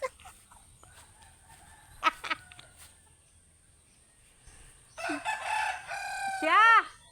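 Chickens in a rural yard clucking in short bursts early on, then a loud rooster crow near the end, with some faint background noise and quiet stretches between calls.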